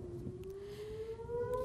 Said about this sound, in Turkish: Kudüs ve Tel Aviv'de patlama ve siren sesleri duyuldu